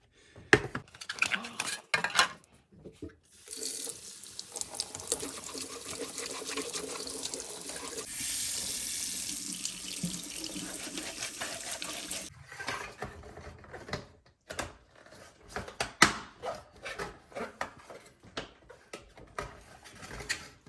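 Water runs through an Arctic Spa hot tub filter during a rinse, a hissing spray that starts and stops in bursts, with clunks and handling noises between the runs.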